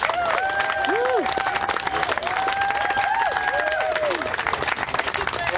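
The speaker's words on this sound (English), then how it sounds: "Round of applause, guys." A crowd at an outdoor political rally applauds and cheers loudly and continuously, with whoops and shouted yells rising over the dense clapping throughout.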